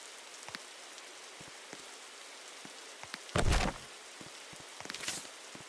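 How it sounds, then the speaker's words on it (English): Acid rain in the Roblox game Survive Bikini Bottom comes through as a faint, steady patter of drops, broken once by a brief loud burst midway and a smaller flare near the end. "Of course, it starts raining acid right now."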